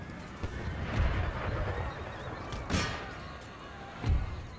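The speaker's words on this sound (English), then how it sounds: "let's try to get our horses out of there." Horses neighing and hooves thudding amid battle ambience in the Empire: Total War video game, a few whinnies and clip-clops rising over a steady background din.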